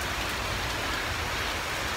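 Steady rain hisses evenly throughout, a broad wash of falling drops with no voices over it.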